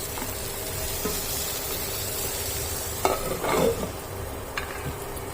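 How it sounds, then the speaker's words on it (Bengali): Pointed gourd (potol) frying in a little oil under a lid, a steady close sizzle throughout with a short burst of stirring and utensil scraping near the middle, no voices. "ঢাকা দিয়ে ভাজবো, তাহলে পটলটা খুব সুন্দর করে ভাজা হয়ে যাবে কম তেলের মধ্যেই"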